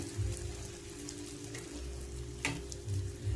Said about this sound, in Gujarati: હવે એમાં આપણે આ પૂરી નાખશું, જે ફટાફટ તળીને ઉપર આવશે.